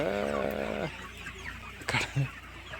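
Hens cluck loudly at a big Maharashtra poultry farm, one drawn-out call up close at the start, then scattered softer clucks and a couple of sharp bursts against steady barn noise.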